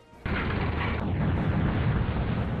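Artillery fire in a World War II strategy game set at the siege of Tobruk, a sudden loud heavy boom followed by a dense rumbling roar that stays steady for a couple of seconds.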